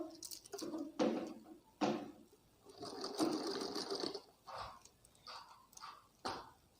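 A sewing machine runs quick basting stitches along the neckline of an umbrella frock. It is quiet and close, running in short, uneven bursts of needle clatter separated by brief pauses.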